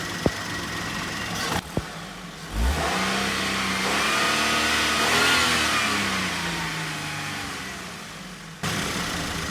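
A petrol car engine, freshly repaired after a knocking fault, idles and then revs up smoothly in a sustained close hum that rises and eases back, with a few clicks at the start.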